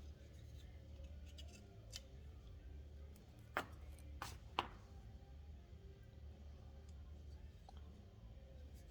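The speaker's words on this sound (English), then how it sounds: "just trim off this excess insulation that the pliers didn't get" A few faint, sharp snips and cuts of a knife trimming spark plug wire insulation sound close by over a quiet background hum, with three or four clustered in the middle.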